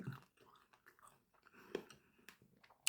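Someone chews raw guava up close, giving soft wet crunching and biting sounds in an irregular rhythm, quiet overall, with a sharper crunch near the end and no speech.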